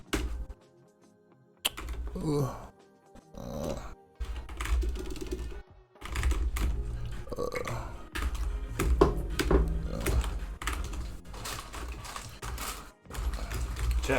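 Computer keyboard typing in a home streaming setup, steady clattering keystrokes near the microphone with short pauses, a brief exclamation from a voice once.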